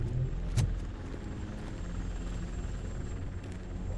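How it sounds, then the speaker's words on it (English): TV news helicopter in RoboCop Rogue City, a steady close rotor and engine drone holding evenly throughout with no talk over it. "That's a TV helicopter."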